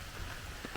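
Rain falling steadily on surfaces during a hike in Cuyahoga Valley National Park, a soft, even patter of drops heard alone with no voices.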